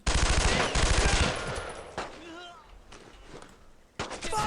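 Bursts of automatic gunfire fill the opening seconds of Brothers in Arms Road to Hill 30, then fade to scattered distant shots. Voices call out between the volleys.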